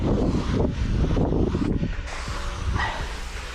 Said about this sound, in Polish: Nie, jednak jest mocny wiatr.